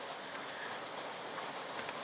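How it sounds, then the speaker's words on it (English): Heavy rain beats on a tin roof as a dense, steady hiss. Scattered faint taps sound through it for about two seconds, with no voices. "And the rain's getting heavier."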